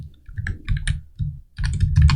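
Rapid keystrokes clatter on a computer keyboard while code is entered, close and crisp, in uneven bursts with brief pauses between words.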